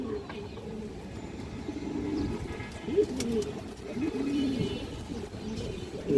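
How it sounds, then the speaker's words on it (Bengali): Large ring-eyed male pigeons, including a brown-throated one, coo continuously in low, throaty, overlapping phrases throughout, steady and fairly close. "বড় সাইজের খরা গলা নর কবুতর।"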